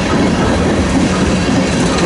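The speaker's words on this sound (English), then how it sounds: "Ballast cleaner." A railway ballast cleaner train rolls past close by on the Harrisburg Line, a loud, continuous rumble with rhythmic wheel clatter and metallic grinding.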